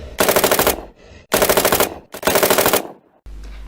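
Three loud, close bursts of rapid automatic machine gun fire, each about half a second long and separated by short gaps, with no talk over them.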